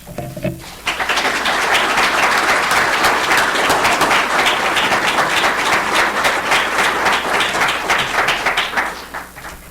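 An audience at an evening lecture gives sustained, loud applause welcoming a speaker, many hands clapping at once in a dense, steady wash that starts abruptly and tapers slightly near the end.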